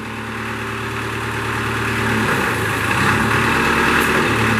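A 1996 Moffett M5000 truck-mounted piggyback forklift engine runs at a steady, rumbling idle with a faint mechanical hum, close and continuous, shifting slightly in tone midway as the outriggers are worked.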